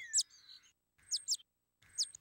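Small birds chirp in three short bursts spaced about a second apart, each a quick cluster of high tweets, fairly faint with quiet gaps between.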